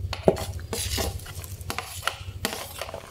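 A spoon stirs and scrapes through boiling coconut milk and whole bird's eye chilies in a metal pot, steady swishing strokes with occasional clinks against the side, close and alone.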